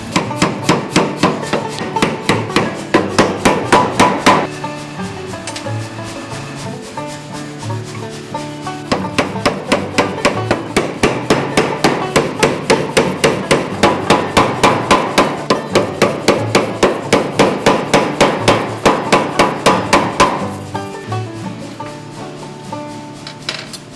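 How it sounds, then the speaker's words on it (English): Blacksmith hammer forging a round steel bar into a rectangular block for a hatchet head, dense rapid rhythmic ringing blows struck close and loud, with a couple of brief pauses in the pounding. "in the process of forging we'll turn it into a rectangular block, which will then be made into the hatchet"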